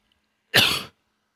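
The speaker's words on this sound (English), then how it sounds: "I think I coughed up a lung" A single loud, close cough from a man during a video game session, sharp and brief against otherwise silent surroundings.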